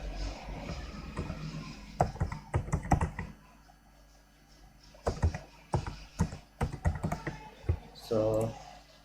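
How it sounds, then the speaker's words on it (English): A website address is typed on a computer keyboard in two quick bursts of close, crisp key clicks separated by a pause, with a little mouse or handling noise near the end and no talking. "So may I have a website, so I will type their website."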